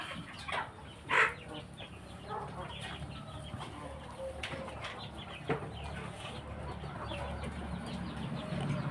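Hens clucking on a Thai fighting-chicken farm, scattered soft clucks and a brief louder call near the start over steady farmyard background.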